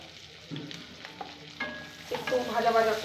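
Sliced onion and ginger hitting hot oil in a pan already tempered with cinnamon, cloves and cardamom for a prawn curry, a rising sizzle with scraping stirs and utensil clinks that grows louder toward the end.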